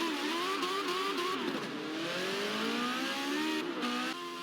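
A 1976 McLaren Formula 1 car in Forza Motorsport 7 at Mugello, its high-pitched racing engine droning steadily with rising and falling revs, loud and continuous throughout.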